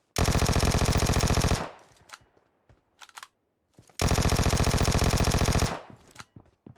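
Automatic gunfire in PUBG Mobile on the Livik map: two loud, sustained rapid-fire bursts of about one and a half seconds each, separated by a few faint scattered sounds.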